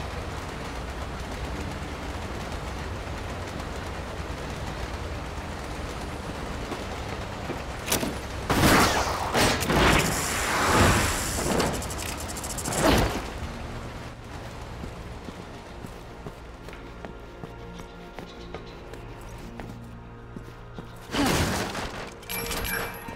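Gunfire from the video game Resident Evil 6 during the Ada Wong chapter, a few loud bursts of shots between about 8 and 13 seconds and again near 21 seconds, over a steady low game ambience with no talk.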